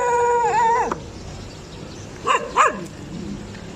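A dog near a riverside trail in Montalban, Rizal gives a drawn-out rising and falling whine, then after a pause two short sharp yelps, fairly close against steady outdoor background noise.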